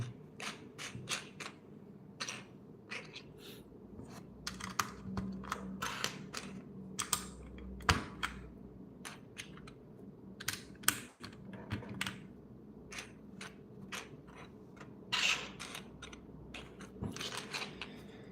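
Keycaps being pressed one by one onto a GMMK Compact barebone mechanical keyboard, sharp plastic clicks and taps in an irregular sequence, close and fairly quiet with faint handling noise between.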